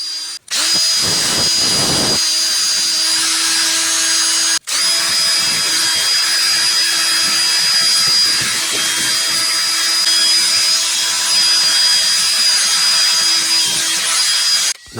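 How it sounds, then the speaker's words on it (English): A drill fitted with a wire brush scours the bark off a walnut live-edge slab, a loud continuous whirring grind with brief cut-outs early on. "It's going to be different assortments of these wire brushes for your drill."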